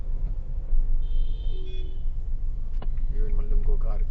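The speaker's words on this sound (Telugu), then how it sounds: "ఈవెన్ మళ్ళీ ఇంకో కార్ హార్న్ కొడుతున్నారు." Cars honk in busy traffic on the road around Arunachaleswarar Temple. A short horn toot rises over a steady roadway rumble, and a voice talks near the end.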